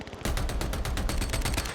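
A rapid burst of automatic gunfire in Call of Duty Mobile, loud and close, with evenly spaced shots rattling off for under two seconds.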